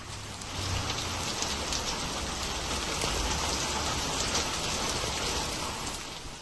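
Heavy rain pouring down in Hyderabad, a dense, steady roar of drops hitting surfaces that swells in at the start and holds evenly throughout, with no voices.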